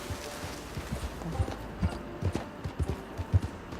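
A horse in a video game trots with steady clip-clop hoofbeats, moderately close, with faint snorting breaths between steps and a quiet voice in the background.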